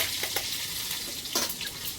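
Curry leaves and mustard seeds sizzle and crackle in hot oil for a tempering, a close, continuous frying hiss with brief sharper spatters and no talk.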